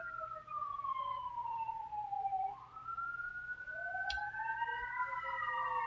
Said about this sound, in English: As the sirens go off